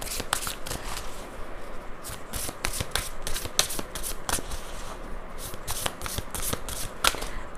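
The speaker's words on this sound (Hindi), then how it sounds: "मैं यहाँ पे जो कार्ड्स निकाल रही हूँ वो देन के लिए है, पहले के लिए, और अभी के लिए यहाँ पे निकालूंगी" Tarot cards being shuffled for a general collective reading, a steady run of soft riffling and slapping card sounds with sharp flicks, close and alone without talk.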